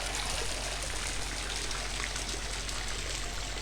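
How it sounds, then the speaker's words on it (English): In the adventure game Secret Files Tunguska, water runs from a barrel's side plug into a basin on a farm, a steady, even rush of flowing water with no pauses or voices. "pull the plug off the side of the barrel"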